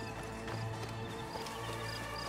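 Horse hooves from Assassin's Creed Origins clop steadily through a dense game soundscape with music and ambience, the gallop continuous and moderately loud.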